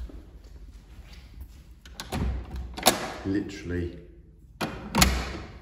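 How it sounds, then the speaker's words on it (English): A restored 19th-century chateau door swinging shut, with a few sharp clicks and wooden thuds close by in a quiet room, one faint word spoken between them. "It's nice to be able to properly now shut the doors."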